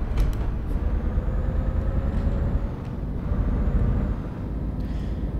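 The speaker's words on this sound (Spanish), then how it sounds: "Y por ahí frenamos el troque." A Scania S730 6x4 truck rumbles heavily as it slows, a loud, close low engine drone with a faint high whine of the brakes sliding across it.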